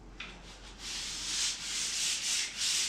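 An old coat on a wooden door is being sanded with a sheet, giving a series of close, rhythmic rasping strokes after one sharp tap, with no one speaking.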